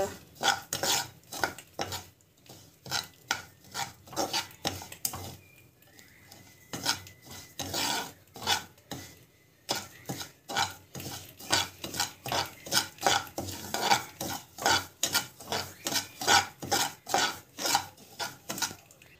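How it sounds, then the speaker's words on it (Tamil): Semolina (rava) roasting in a pan while being stirred hard, making rapid rhythmic scraping and rasping strokes of a spoon against the metal, repeated steadily and close up. "ரவை போட்டு நல்லா வந்து வறுத்துக்கணும்."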